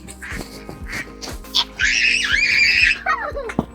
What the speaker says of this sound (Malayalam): ഇവിടുന്നൊരു താറാവ് പ്രാക് പ്രാക് പ്രാക് എന്ന് പറഞ്ഞ് ചാച്ചാടി വരുന്നതാണ്.